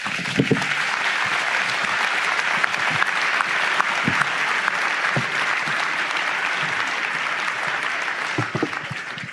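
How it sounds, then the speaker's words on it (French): A crowd at a New Year civic reception applauds the farmers in a dense, steady wash of clapping that runs the whole time, loud and sustained, with no distinct voices. "Et on peut applaudir nos agriculteurs."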